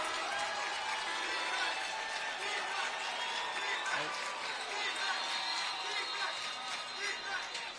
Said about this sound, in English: Clovis East crowd getting loud